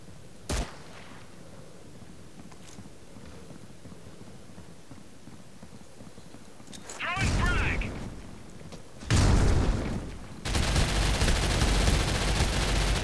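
A P90 and other guns fire in the mobile shooter Critical Ops: a quiet stretch broken by a lone shot, then loud bursts of rapid automatic fire and a final sustained volley, near and harsh.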